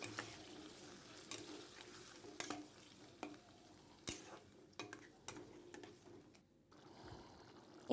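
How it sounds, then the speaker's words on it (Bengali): Spice paste for a Bengali jackfruit and prawn curry fries in a pan while a spoon scrapes and stirs it in irregular bursts, with a soft sizzle running underneath and a louder clatter at the end. "এবার ভালো করে কিন্তু মশলাটাকে কষিয়ে নিতে হবে।"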